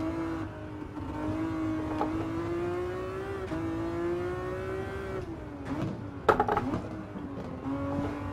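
Race car engine in Gran Turismo 7, chasing a Ferrari F50: a steady, loud engine drone with rising and falling pitch through gear changes and corners, and a brief sharp clatter near the end.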